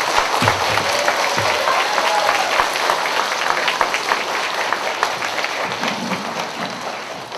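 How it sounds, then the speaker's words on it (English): Audience applause fills a school Veterans Day assembly for fifth graders, a steady dense clapping that holds at full strength for the whole stretch with a faint murmur of voices underneath. "Would you give them a round of applause?"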